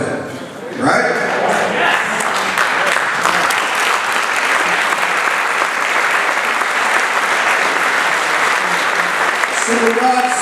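Steady, enthusiastic applause from a large crowd at a center dedication ceremony, sustained for about ten seconds after a sudden start, loud and close.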